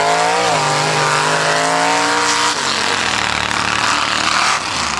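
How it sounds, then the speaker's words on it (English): A big truck racing at a mud ranch, its engine revving hard and loud close by, the pitch climbing and then dropping off through the run, with no talking. "What a big, big truck. That thing's huge."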